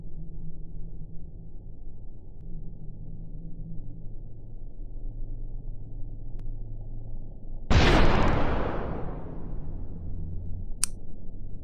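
A single sharp sniper rifle shot at a shooting range cracks loud and near over a steady low hum, its burst decaying over a couple of seconds, followed later by a faint click.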